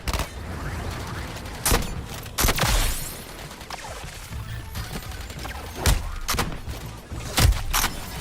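Gunfire and explosions in a Justice League video game, loud bursts and heavy impacts in irregular clusters over a busy layer of rumble and mechanical clatter.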